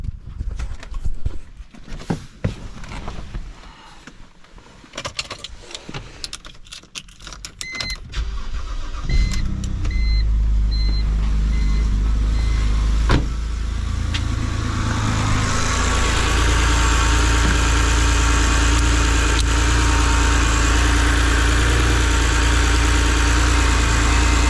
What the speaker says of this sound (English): All right, I'm going to start the engine.